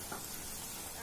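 Jalebi fries in hot oil, giving a steady, soft, close sizzling hiss throughout.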